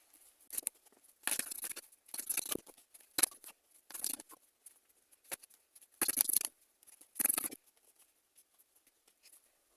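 Tarot cards being shuffled and drawn in a career and relationship reading, heard as a series of short papery slaps and riffles in uneven bursts, fairly quiet and close, with no talking.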